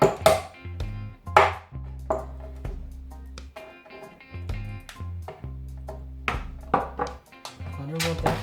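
Whole pimento seeds being pounded for a Jamaican curry chicken: a series of dull, irregular knocks and thumps close by, with a voice talking over the pounding.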